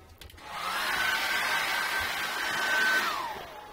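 A hair dryer blows on an acrylic painting, switching on to a steady close whirring hiss that holds for a few seconds and then winds down.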